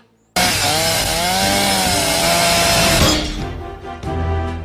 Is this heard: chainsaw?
yes